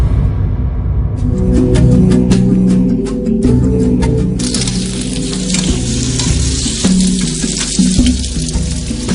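Cumin seeds dropped into hot oil in a home kitchen, giving a steady, close sizzle that runs throughout with scattered crackles and clinks, under a low background hum.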